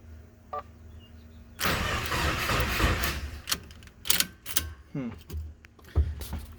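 A Subaru Crosstrek fitted with a swapped-in WRX engine cranks and then catches in a rough burst lasting about a second and a half. Irregular revs, clunks and clicks follow, all close and fairly loud.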